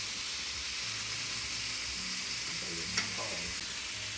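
Meatballs brown in a pan for a low-carb zucchini spaghetti dish, giving a steady, close sizzling hiss with one brief utensil clink near the end.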